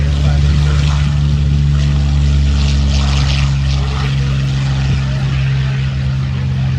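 Curtiss P-40 Warhawk with its Allison engine on its takeoff roll at an airshow in Chino, California, a loud steady propeller drone with a deep sustained hum, heard from nearby under a commentator's voice.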